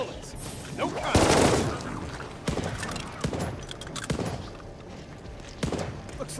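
Repeated gunshots in Call of Duty Vanguard zombies mode crack out in scattered bursts and single shots against a busy game background, with voices talking in between.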